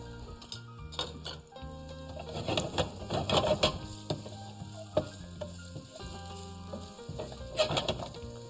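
Finely chopped ginger frying in a pan, a soft close sizzle rising and falling in short bursts with intermittent clinks and crackles, fairly quiet and without speech.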